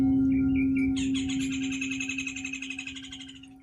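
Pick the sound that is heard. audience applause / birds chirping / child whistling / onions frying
birds chirping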